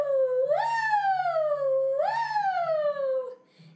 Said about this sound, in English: They make a special sound called a siren,